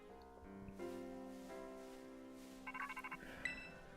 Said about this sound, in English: So we get a phone call.